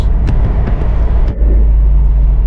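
A 2024 Bentley Continental GTC Edition 8 drives off down the road, its engine a steady, loud low rumble with road noise, briefly dipping before surging on as it picks up speed.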